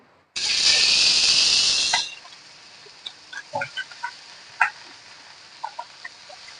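Pieces of rohu fish drop into hot oil and set off a loud, steady sizzling hiss for about two seconds. It then settles into quieter crackles and pops.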